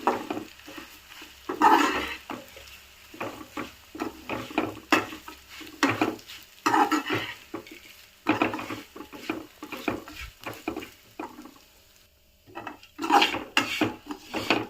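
Flattened rice (poha) is tossed and stirred in a frying pan, producing repeated scraping, rustling and light clattering strokes in an uneven rhythm, close and moderately loud.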